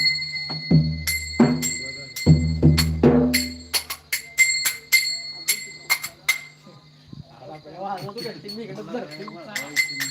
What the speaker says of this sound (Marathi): या घंटी वाजवा या का नाही